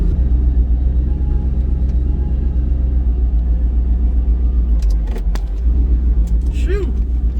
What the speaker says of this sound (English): I might play with the exhaust still a little bit, maybe tone it down just a hair,